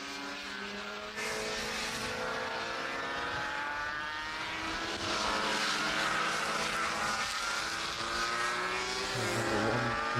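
Classic racing motorcycles, including a 250 and RG two-strokes, pass on a race track, their high revving engines rising and falling in pitch as they go by, fairly loud and continuous with no voices.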